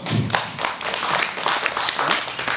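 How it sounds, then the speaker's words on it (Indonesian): An audience at a cultural workshop gives a dense burst of clapping that carries on for a couple of seconds, with faint voices underneath. "Tepuk tangan untuk kita semua."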